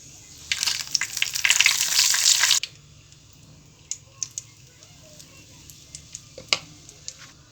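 Hot oil with a chutney tempering bursts into a loud, close sizzle that lasts about two seconds and then stops abruptly. A few light clicks and taps from the pan follow in near quiet.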